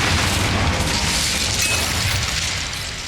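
A fire spell cast in Hogwarts Legacy erupts as a loud, broad whooshing boom that roars steadily, then slowly fades toward the end.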